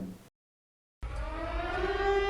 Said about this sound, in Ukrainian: що робити у разі звучання незвичної сирени